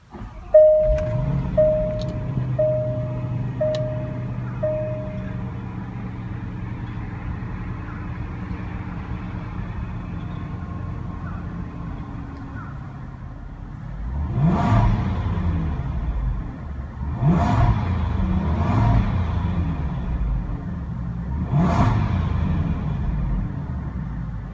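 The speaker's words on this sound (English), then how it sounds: "start it up and see how it sounds" A 2016 Range Rover Supercharged, preceded by a series of electronic chimes, starts and settles into a low idle, then gives several sharp, rising revs in quick succession before dropping back each time.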